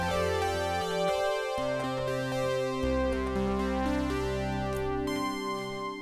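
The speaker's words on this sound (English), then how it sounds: "I love the Juno sound." A Roland Juno-6 synthesizer is played, producing sustained, rich chords and bass notes that shift and overlap. It plays alone, with no talking, and a warm, steady pad-like tone runs throughout.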